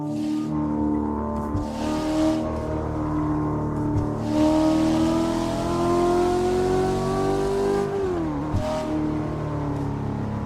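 A race car in the PC driving game Assetto Corsa, its engine holding a loud, steady, close drone that climbs gradually in pitch as it revs, then drops with a gear change and climbs again.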